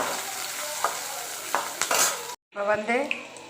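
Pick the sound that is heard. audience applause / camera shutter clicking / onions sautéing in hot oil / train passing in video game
onions sautéing in hot oil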